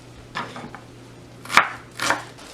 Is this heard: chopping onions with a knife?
yes